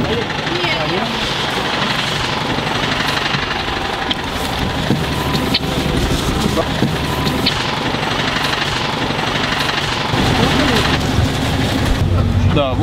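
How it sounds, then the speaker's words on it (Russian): Steady engine drone of a marshrutka minibus driving toward a city center, a continuous rumble with road noise and occasional rattles, with voices talking inside the cabin. "мы сели уже в маршрутку, которая движется в направлении центра"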